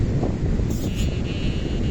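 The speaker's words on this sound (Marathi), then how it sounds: "वारा बघा कसला आहे, ते फडफडते अक्षरशः." Strong wind blows at Tarkarli Beach in the morning, a steady, loud, rushing roar buffeting the microphone throughout, with a low rumble and no speech.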